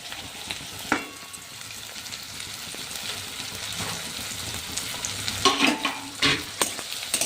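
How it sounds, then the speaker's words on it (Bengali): Chopped chillies, garlic and ginger frying in a pan with onion, a steady close sizzle broken by a few louder stirring scrapes and clatters. "এটাকে ভালো করে ভেজে নিতে হবে।"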